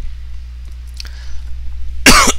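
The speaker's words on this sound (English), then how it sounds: "I don't know why I've got this tickle in my throat and making me cough right now" A person coughs once sharply, close and loud, after a quiet stretch with faint background hum, clearing a tickle in the throat.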